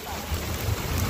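Heavy rain pours down outdoors in a village during fishing, a dense, close, continuous wash of drops with low rumbling underneath.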